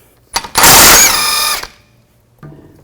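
A power socket tool whirs loudly for about a second, removing a 17mm nut from the steering knuckle of a 2004-10 Toyota Sienna, with a short rattling tap afterward.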